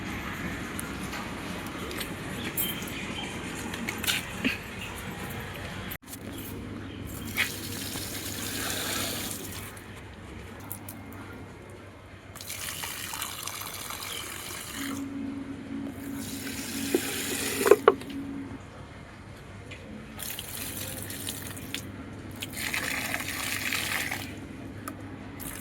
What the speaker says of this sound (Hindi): ये पानी डाल रहा है पौधों में, दोनों टाइम डाल ही देते हैं।